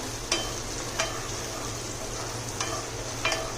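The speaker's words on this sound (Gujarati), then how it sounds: "આ બધું મિક્સ કરી અને હલાવી લેવાનું છે" A spoon stirs a crushed garlic and herb mixture in a pan for a Mexican burrito bowl, with a soft continuous sizzle and four sharp scrapes at uneven intervals.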